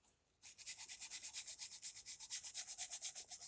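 A small brush scrubbing a car radiator, producing a quick, even back-and-forth rhythm of close, soft bristly rubbing strokes that continue steadily after a brief quiet start.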